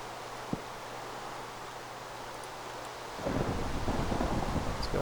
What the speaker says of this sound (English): Rain and lightning in a desert.